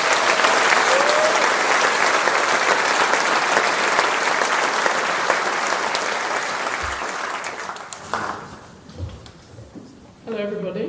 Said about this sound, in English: call for another round of applause to the complete class of